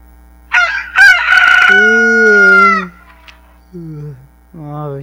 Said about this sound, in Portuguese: Ah, vai ser essa galinha de novo.